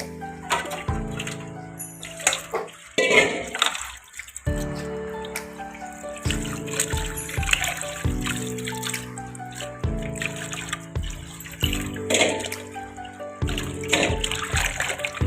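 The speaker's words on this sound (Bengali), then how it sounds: "প্রথমে আমি ইলিশ মাছগুলি ভালো করে ধুয়ে নিলাম" Hilsa fish rinsed under a running tap, water splashing and trickling in bursts with intermittent gaps and handling noises, close and clear, no talk.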